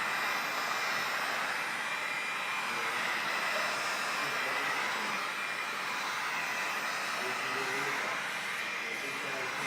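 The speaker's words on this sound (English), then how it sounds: "You can blast it with heat at this point because nothing is going to burn, it's just going to activate the adhesive" A heat gun blows a steady, loud broadband rush of hot air held close against a vinyl ballistic shield decal, continuous and unbroken throughout with no talking over it.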